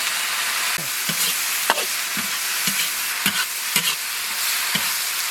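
Pork intestines stir-fried with chili and onion chunks in a hot wok, a loud continuous sizzle broken by regular spatula scrapes and clanks about once a second, close up with no talking.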